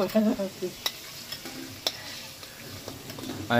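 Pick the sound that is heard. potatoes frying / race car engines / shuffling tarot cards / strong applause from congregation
potatoes frying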